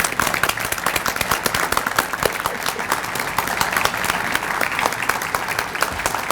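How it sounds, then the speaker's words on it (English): A breakfast crowd welcomes new chamber of commerce members with a sustained burst of dense, even applause, many hands clapping close by for several seconds. "go ahead and stand and we'll give you all a big round of applause"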